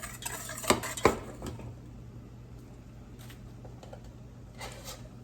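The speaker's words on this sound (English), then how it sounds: "We're going to take and whisk this together" Cornstarch and sugar are whisked in a pot for a banana cream pie filling, two sharp metallic clinks early followed by softer scraping strokes, close and fairly quiet.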